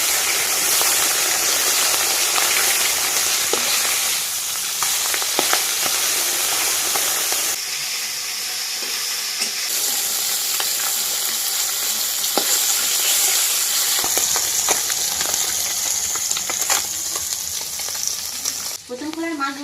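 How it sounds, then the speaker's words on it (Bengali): Fish sizzling in hot oil in a wok, a dense continuous crackle and hiss that holds steady close by throughout, with brief louder spits toward the end. "একে একে মাছগুলো দিতে হবে আর ভেজে তুলে নিতে হবে"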